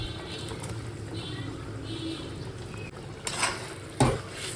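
Utensil scraping and clinking in a cooking pan as fried paneer is stirred in, soft and close over a steady background hum, with a couple of sharper knocks near the end.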